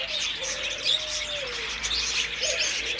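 Budgerigars at a zoo aviary chatter and chirp noisily in a dense, continuous flock, with bright overlapping tweets and warbles filling the air and no voices on top.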